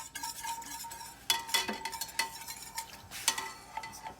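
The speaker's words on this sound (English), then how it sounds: "Stir this up, and you're gonna already start to see this stuff get thick" A spoon scrapes and stirs enchilada sauce in a pan over medium heat on a Big Green Egg grill, with irregular close scraping strokes over a faint sizzle.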